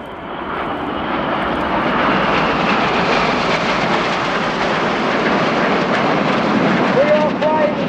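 Red Arrows jets flying a corkscrew formation display at RIAT, a loud continuous broadband jet roar that swells and holds steadily throughout, close overhead with no pause.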